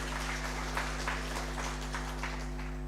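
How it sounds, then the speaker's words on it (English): An audience at an indigenous seeds and food culture harvest fair clapping together, a steady patter of many hands heard somewhat distant over a constant electrical hum. "Please let's give them a hand clap."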